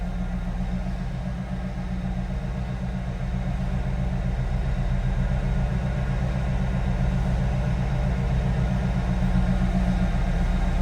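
A 1994 Pontiac Trans Am 25th Anniversary engine idles with a steady, low, even rumble that stays close and constant throughout.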